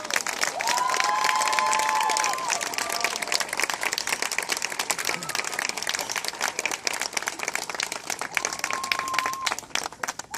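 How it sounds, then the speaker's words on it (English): Outdoor crowd at a WWII close-assault reenactment show at Camp Mabry applauds and cheers veterans, a dense steady wash of clapping with scattered whistles and shouts, loudest at first then holding on through the end. "how about giving these veterans a round of applause?"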